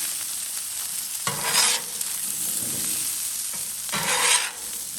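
Potatoes frying on a Blackstone flat top grill outdoors, a steady sizzle with two bursts of metal spatula scraping as they are turned, no voices.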